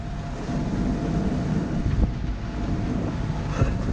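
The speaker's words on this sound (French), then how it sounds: "On vient de se prendre 34 nœuds de vent." Strong wind gusting to 34 knots on a Mahé 36 sailing catamaran roars steadily against the microphone, a dense low rumble with occasional gusts and no voices.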